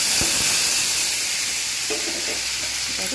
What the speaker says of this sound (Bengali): এবার এতে দেবো টমেটো আর কাঁচা লঙ্কা